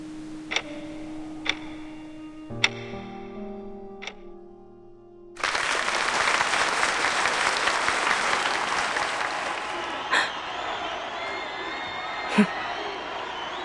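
Sparse ticking gives way to sudden, sustained applause from a crowd in the video game Reverse 1999, a dense wash of clapping that continues steadily with occasional sharp accents.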